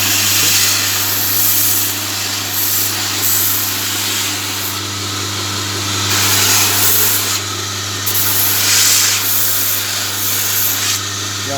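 A belt sander grinds the oval face of a forged steel hammer, a loud continuous abrasive roar with a steady motor hum and slight swells as pressure shifts.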